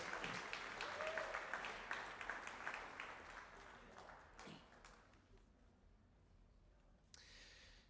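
Applause at a high school athletics hall of fame induction ceremony, a faint, quiet round of clapping that dwindles away, with a few scattered claps afterward.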